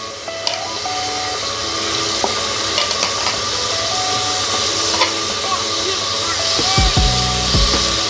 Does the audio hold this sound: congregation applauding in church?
no